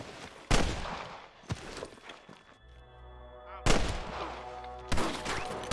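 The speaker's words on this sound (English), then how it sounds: "I can hear more gunshots" Red Dead Redemption gunfire on Nintendo Switch: a few sharp shots and a short burst, separated by a quieter stretch with a droning tone, close and loud.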